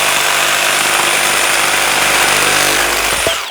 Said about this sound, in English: So as you cut this, the weight leans on the blade.